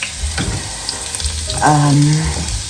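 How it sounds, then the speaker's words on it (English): Chicken apple sausage, baby potatoes and onions sizzle steadily in a hot pan, with a few scrapes and stirring clatters close by. "I'm frying that all up together"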